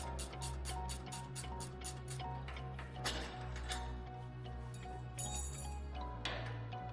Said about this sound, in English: I'm disconnecting the sway bar from the spindle using an Allen wrench and ratchet wrench